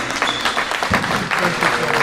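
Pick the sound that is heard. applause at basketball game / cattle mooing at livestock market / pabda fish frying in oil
applause at basketball game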